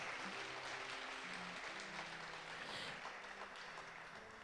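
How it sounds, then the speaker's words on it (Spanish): A church congregation claps in praise during a Spanish-language worship service, steady dense applause throughout, fairly faint and distant, with faint voices mixed in. "dale un aplauso al Señor."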